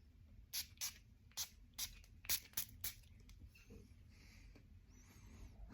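Lorenzo Pazzaglia Black Sea fragrance atomizer sprayed in about eight quick hissing bursts at an irregular rhythm, close and crisp, followed by quieter faint rustling.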